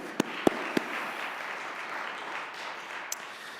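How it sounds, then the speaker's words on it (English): Audience applause for Father Dan at an antiracism event: a soft, steady wash of distant clapping with a few sharper individual claps standing out near the start, fairly faint throughout. "So we just want to give another round of applause for Father Dan."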